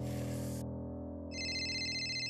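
A phone rings in a Marathi TV serial scene: a bright electronic ring rises out of the background music after a short pause and keeps going.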